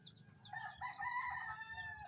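A rooster crows faintly in the distance, a drawn-out call over low background noise, with hints of chickens clucking.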